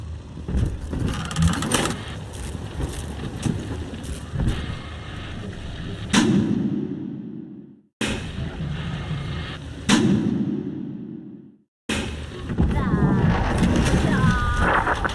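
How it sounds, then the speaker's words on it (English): Explosive charges detonate in the BioShock 2 video game: a series of sharp, heavy blasts arrives every couple of seconds, each followed by a rumbling decay that briefly drops toward silence before the next burst hits. "Mother's people are starting to detonate the charges."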